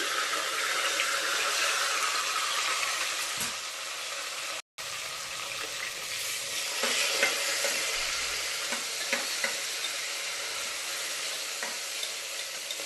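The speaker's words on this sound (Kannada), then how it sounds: "ಈಗ ಇದು ಫ್ರೈ ಆಗ್ತಿರುವಾಗಲೇ ಈರುಳ್ಳಿ ಎಲ್ಲ ಹಾಕ್ಕೊಬೇಕು." Onion and tomato frying in oil for chicken dum biryani make a dense, continuous sizzle, with occasional stirring clinks and scrapes close by, and no one speaks.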